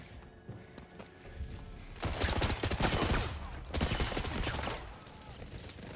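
Gunfire rattles in a James Bond action video game, with two loud clusters of rapid shots separated by a short lull, all over quieter background game sounds.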